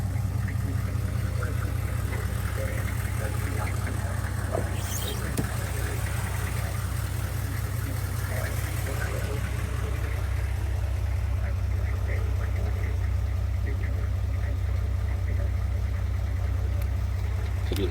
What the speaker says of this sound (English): Sounds nice because it's an exhaust.